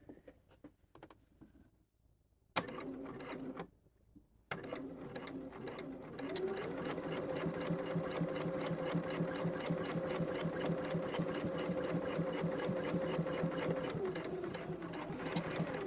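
A sewing machine stitches a shirt sleeve placket, running in a steady, fast, continuous whir after a few brief starts and stops, close and fairly loud.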